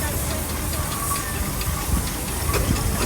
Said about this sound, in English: Sentinel steam wagon built in Shrewsbury.